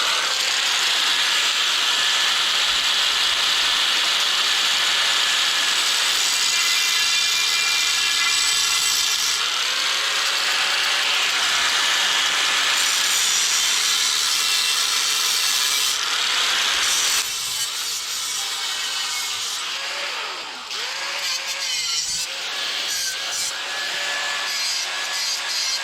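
A rusted square steel tube fence rail cut with a saw in a continuous harsh rasping grind that holds steady for over twenty seconds, loud and close, shifting pitch slightly as the blade bites, with no talking.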